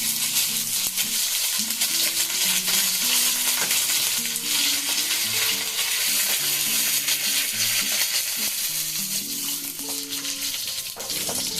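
Bengali five-spice (panch phoron) and a few curry leaves frying in about two spoons of hot oil, a steady loud sizzle with spatula stirring and scraping throughout, no voices.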